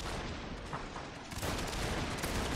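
Musket gunfire in the video game Total War Shogun 2 with a mod set in Imperial Russia, a dense, distant-sounding crackle of volleys blending into a steady battle roar.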